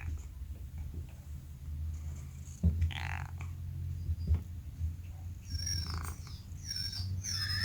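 A cat makes a few short, raspy croaking sounds close by over a low background hum, with a dog's faint whining heard near the end.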